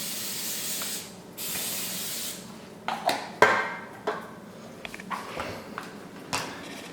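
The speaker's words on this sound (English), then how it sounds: "And then the good old cooking spray." Cooking spray hisses from an aerosol can onto both sides of a waffle iron in two steady bursts, followed by light clinks and taps of kitchen items.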